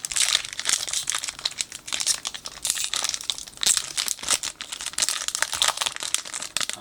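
Foil booster pack wrappers crinkle and crackle close up as they are handled and torn open, a continuous busy rustling with no talk over it.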